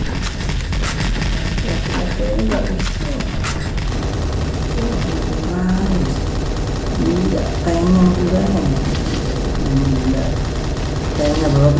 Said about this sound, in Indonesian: kita tembak ya